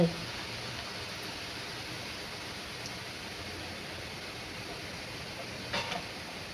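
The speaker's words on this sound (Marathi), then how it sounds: "आता हे सगळं फुल मोठ मोठ पोहे सोडायचे आहेत आणि तळून घ्यायचे आहेत" Thick poha flakes deep-frying in hot oil over a full flame for chivda, giving a steady, even broadband hiss that holds throughout with a small burst near the end.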